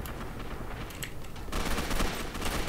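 Rapid gunfire in the superhero-themed shooter Gotham City Impostors, a dense continuous rattle that grows louder and denser halfway through, with no talking.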